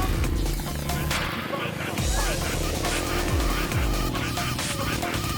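A motorcycle engine revs and strains in bursts while stuck in quicksand beside a river in Indonesia, loud and close, with voices shouting in the background.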